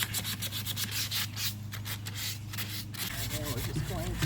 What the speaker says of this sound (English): go into these grooves with some sandpaper